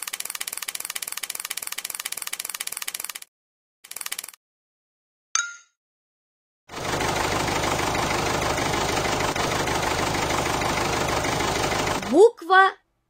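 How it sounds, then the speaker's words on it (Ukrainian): Spinning top humming with a steady, dense whir for several seconds after a few short starts and stops, ending in a rising tone. "Дзига."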